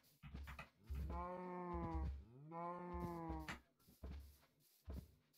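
Two long, loud moos from blocky video-game cows, each drawn-out call rising and falling with rich harmonics, separated by a brief pause and followed by softer farm-animal grunts.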